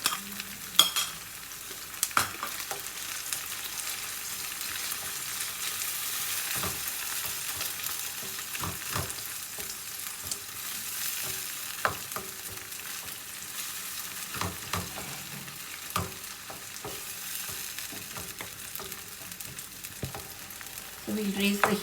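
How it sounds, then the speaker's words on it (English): Tomatoes fry and sizzle in a pan of Anglo-Indian chicken curry with fresh ginger and garlic, and a spoon scrapes and stirs them in steady, repeated strokes for about twenty seconds. "So now I'm going to add the tomatoes."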